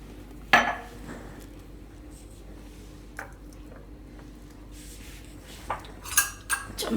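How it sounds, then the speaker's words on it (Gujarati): A spoon stirs a gulkand milkshake in a glass, giving a few sharp, separate clinks against the glass amid quiet, faint swishing, with no talking. "ચમચી ફેરવી લે"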